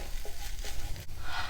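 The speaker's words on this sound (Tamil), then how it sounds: "1 நிமிஷம் நல்லா வதக்கிடலாம்." Tomato ketchup sautéing in a pan for pasta, a steady close sizzle with soft scraping stirs running throughout, no voices.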